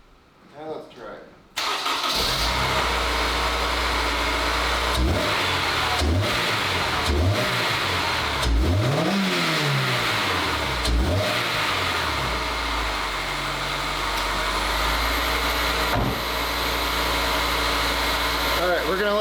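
An oil-burning Honda S2000, tended in a garage, starts up and is revved several times toward the limiter, sharp rising and falling sweeps that then settle into a steady idle, with people talking over it.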